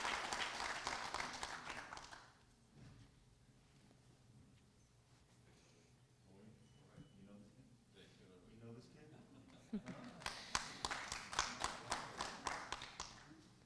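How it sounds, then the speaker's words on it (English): Audience at a wartime service medal ceremony in Fairfield, Connecticut, bursting into applause at the start, falling quiet under low talk, then clapping again near the end, close and fairly loud. "Let's give a round of applause for Mr."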